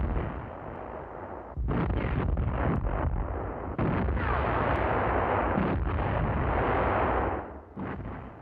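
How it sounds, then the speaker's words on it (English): Infantry guns firing on a forward enemy position camouflaged in a wheat field, heard as dense rolling booms and rumbling blasts that swell and fade in loud waves, with no voices. "A forward enemy position, camouflaged in a wheat field, is the target of the infantry guns."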